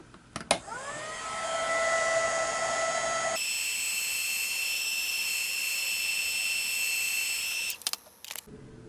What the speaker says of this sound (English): To make this dry faster, I'm going to use my heat embossing gun and get this going